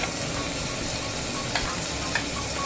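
Onion and tomato fry in oil with bay leaf and black pepper as meat is prepared, giving a steady, dense sizzle broken by a couple of faint stirring clicks.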